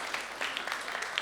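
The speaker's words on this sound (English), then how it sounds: "let's give another round of applause for the Nashville Food Project" A seated audience at a food-justice event gives the Nashville Food Project a short round of applause, a steady patter of clapping.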